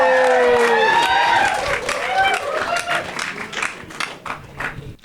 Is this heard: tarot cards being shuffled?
no